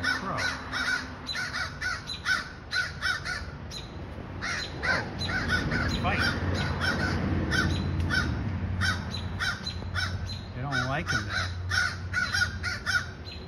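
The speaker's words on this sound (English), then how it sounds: "Look at this, he's getting tormented by a crow." Several crows caw repeatedly outdoors while mobbing a hawk, harsh calls coming in irregular bursts over nearly fourteen seconds, some nearer and some farther off, with no talk.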